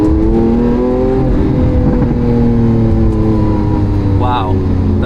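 A Lamborghini Aventador S engine drones while driving, a loud steady low hum with shifting tone as the throttle changes, heard from inside the cabin while someone talks over it.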